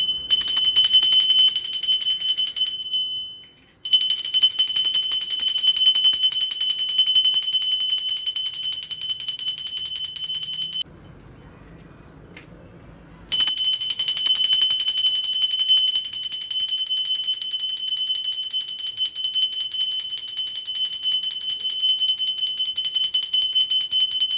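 A bell rung during a Buddha Purnima puja, a loud, sustained bright ringing that runs almost continuously, with a couple of short breaks; no talking.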